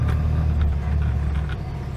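A three-wheeled vehicle's engine pulls hard after a shift into second gear, a steady, loud, low rumble that holds throughout with a slight dip partway, no talking over it.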